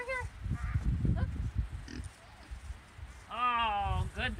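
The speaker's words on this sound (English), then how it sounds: "Oh, good pig." Pigs grunt near the feed on a hog farm, low rough snorts and grunts close by, with a person talking to them and a high squeal toward the end.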